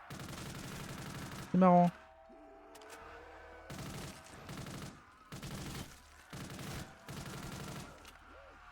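Shotgun blasts in a video game, several sharp bursts spaced about a second apart, each with a short pumping tail, mixed in with gameplay sounds while someone speaks French at moments.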